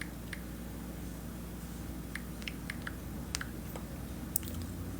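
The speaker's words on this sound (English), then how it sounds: "Hold up, I just type it in." Faint, scattered keystrokes tap on a computer keyboard over a steady low hum, with irregular clicks and no speech.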